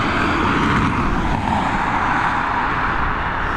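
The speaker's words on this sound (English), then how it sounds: "Cool little plane." A small plane at Dublin Airport produces a loud, steady engine drone with a broad rushing roar, constant throughout the few seconds, with no voices over it.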